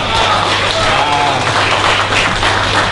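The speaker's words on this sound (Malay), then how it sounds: "Satu tepukan untuk Haji Wahid." Loud, dense applause fills the space continuously, a crowd clapping steadily close by with no clear breaks, at a dinner gathering in Malaysia.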